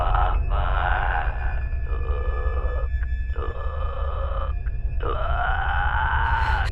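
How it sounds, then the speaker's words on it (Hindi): A distorted, creepy low voice from the horror film The Babadook comes through a telephone line in drawn-out croaking phrases separated by brief gaps, loud and filtered as if over a phone. "फ़ोन से बाबाडूक की कुछ ऐसी आवाज़ सुनाई देती है।"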